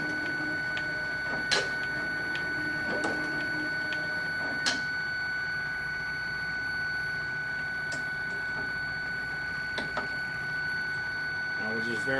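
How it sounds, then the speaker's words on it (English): A Kegel Kustodian ION bowling lane machine head runs with a steady mechanical whine. Sharp ticks and clicks come at irregular intervals over the continuous drone, close and even in level. "The head's going to run 8 times, it's going to pause, and then it's going to run 8 more times"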